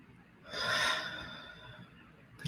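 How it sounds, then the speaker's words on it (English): A single deep breath is drawn in and let out slowly during a calm chakra clearing session, a soft airy swell that rises and fades, close to the microphone. "Take a deep inhale and exhale."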